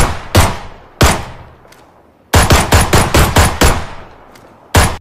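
Machine gun fire sound effect, loud and close: single sharp shots, then a rapid burst of about eight evenly spaced rounds, each cracking and ringing out briefly, ending with one last shot.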